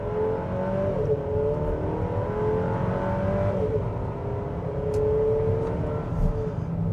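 A 2025 Buick Enclave Avenir three-row SUV accelerates up a slight incline, its engine droning and rising steadily in pitch from inside the cabin, loud and continuous throughout with no talking.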